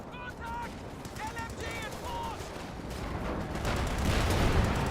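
In Company of Heroes 2 a Panzer tank fires amid ongoing battle noise, with bursts of gunfire and a swelling rumble of explosions under a dense, busy wartime soundscape; short tonal voice-like calls come early.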